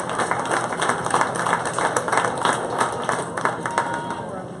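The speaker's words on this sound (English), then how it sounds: "Congratulate them with a nice round of applause." A round of applause at a county 4-H fair swine show for Hampshire gilt exhibitors, steady dense clapping from a crowd that carries evenly through the whole stretch.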